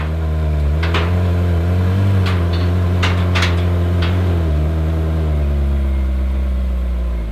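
A totaled Ferrari California's engine hums steadily at low revs as it creeps onto a trailer, with a few brief knocks and clunks over the constant drone.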